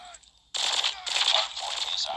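Rapid automatic burst fire from a burst pistol in a first-person shooter video game, a dense, loud continuous rattle starting abruptly and running to the end with brief dips.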